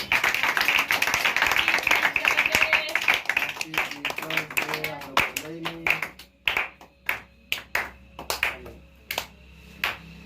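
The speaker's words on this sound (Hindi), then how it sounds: "ताली बजाइए आप।" Students applaud at the end of a Teacher's Day speech in a classroom, starting as dense clapping that thins into scattered individual claps, with voices chattering underneath.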